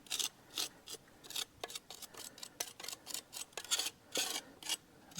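Debris is scraped out of a Jeep Wrangler clutch throwout bearing part with a tool, giving quick, close, rhythmic rasping strokes in short bursts, faint and without talking.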